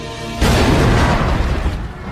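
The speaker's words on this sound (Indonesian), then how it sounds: "sebentar lagi bom akan meledak" A film bomb blast destroys a Dutch headquarters, a sudden loud roaring explosion that erupts after a low rumble and sustains as a broad rushing boom before easing off.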